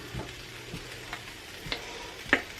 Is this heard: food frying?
yes